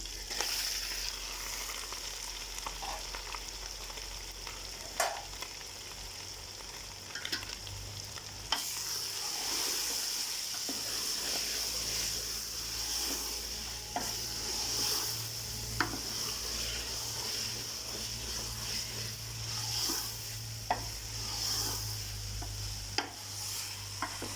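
Minced beef keema with boiled potatoes sizzles steadily in a pan while a spoon stirs and scrapes through it, with occasional sharper knocks against the pan over a constant frying hiss.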